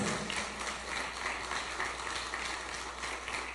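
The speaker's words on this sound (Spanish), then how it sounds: "Un aplauso a Cristo, hermanos." Congregation applause for Christ during a church service, a continuous wash of clapping at moderate volume, fairly even across the few seconds, with no speech over it.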